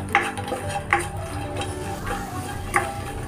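Fox nuts (makhana) lightly frying in a pan, heard as soft rustling and a faint low sizzle with occasional light clinks of a spoon against the pan, quiet and close.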